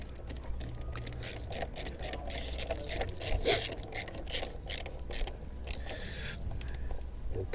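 A ratchet clicks rapidly and steadily as screws on the air filter housing of a 2014 Chevy Equinox are tightened, giving a close, continuous run of sharp mechanical ticks with no voices.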